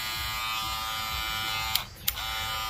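A StyleCraft Rebel hair clipper runs with a steady, close electric motor buzz that holds for nearly three seconds, broken once by a brief dip and two small clicks near the end.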